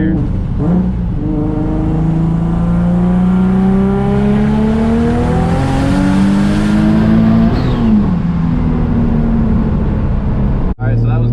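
A turbocharged car running high boost accelerates through a long third-gear pull, the engine tone rising steadily for several seconds before easing off, loud and close inside the cabin, with speech briefly over the engine.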